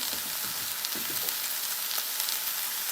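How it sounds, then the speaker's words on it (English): Vegetables sautéing in a pan for a vegan TVP bolognese sauce give off a steady, even sizzle with faint crackles throughout and no talking. "So you start to saute this."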